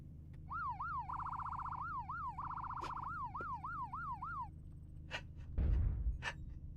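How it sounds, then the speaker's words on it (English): A police siren on a mech in MechWarrior Online wails in a rapid rising-and-falling yelp pattern for several seconds, then cuts out, followed by a low rumble and a few short mechanical bursts. "I got a little siren."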